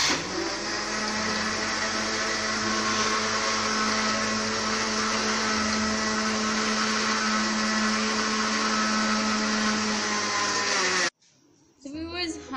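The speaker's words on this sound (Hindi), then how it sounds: "अब हमने इस मिक्सचर को मैश करना है जग में, जिस तरीके से हम शेक वगैरह बनाते हैं उसी तरीके से हमने इसको मैश करना है।" An electric blender whirs loudly and steadily as it mixes a cold coffee mixture in a jug, running continuously for about eleven seconds before switching off abruptly, followed by a brief clatter.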